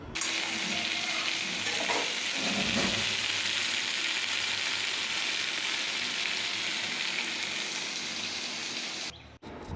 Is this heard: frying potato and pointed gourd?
yes